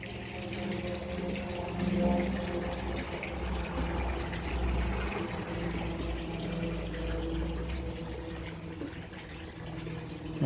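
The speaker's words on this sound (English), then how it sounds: "my noisy water feature" A noisy garden water feature keeps up a constant trickling, splashing wash of water at moderate loudness, steady and unbroken with no voices, in an outdoor garden where it masks the background road noise.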